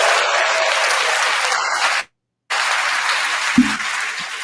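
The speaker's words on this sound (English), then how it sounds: "Let me give her another applause for that." A canned applause sound effect fired from soundboard buttons during a live podcast, steady crowd clapping broken by a brief gap of silence, then resuming, with a faint thump near the end.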